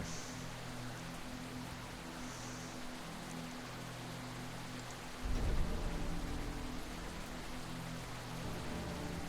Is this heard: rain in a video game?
yes